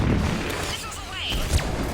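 In the video game Mass Effect 3, a missile launches and explodes in a roaring, dense burst of booms and rumble that fills the whole two seconds.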